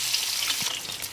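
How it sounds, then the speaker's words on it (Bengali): Boiled eggs, slit and rubbed with salt and turmeric, fry in hot oil, giving off a dense, steady sizzle and crackle heard up close with no talking. "দিয়ে নুন হলুদ মাখিয়ে এটাকে এখন আমি ভাজবো।"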